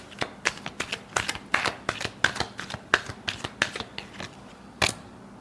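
Tarot cards are shuffled by hand in rapid, crisp riffling bursts, close and fairly loud, with no talking over them.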